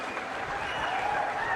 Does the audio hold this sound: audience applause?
yes